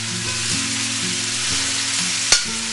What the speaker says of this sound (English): Now the wok is hot, sizzling, right?